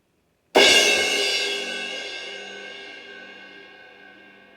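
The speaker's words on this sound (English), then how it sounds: "A big crash sound is gonna sound like this." A single loud crash cymbal hit with a bright, splashy attack that rings out and slowly decays over several seconds, heard alone.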